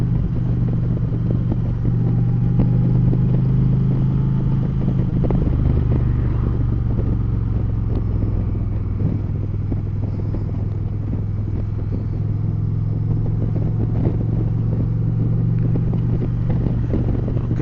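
Steady, loud engine rumble from an Indian Roadmaster motorcycle while riding, a continuous low drone with road and wind noise running unbroken throughout.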